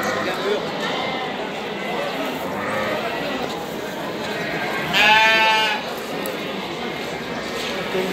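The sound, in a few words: sheep and lambs bleating at a livestock market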